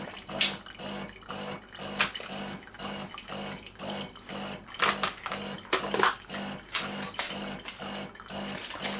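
A De'Longhi Dinamica coffee machine flushing clean water through its system, giving a steady pulsing pump rhythm with repeated gurgling, splashing bursts, fairly close and continuous with no talk.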